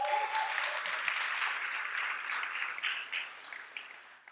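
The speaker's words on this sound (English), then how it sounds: "So give one more huge round of applause for the organizers and the really great food." Applause from a conference audience at revo.js 2019, a dense burst of clapping that gradually thins and tapers off over about four seconds, with no talking over it.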